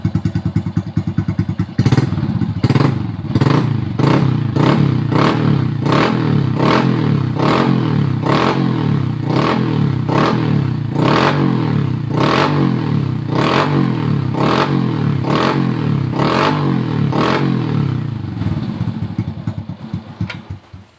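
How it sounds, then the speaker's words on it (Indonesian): A motorcycle engine runs smoothly after a spark plug replacement, giving a steady, loud, close rhythmic thumping with faint mechanical clatter. It holds an even beat for about twenty seconds with no talking, then fades out. "setelah kita lakukan pergantian busi, motor ini hidup normal"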